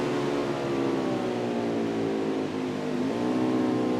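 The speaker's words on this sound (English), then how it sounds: "You can hear the RPMs of another car nearby just racing up behind him." A Winston Cup stock car engine at Canadian Tire roars continuously at high revs, loud and close, with a second car's engine rising in pitch as it closes in behind.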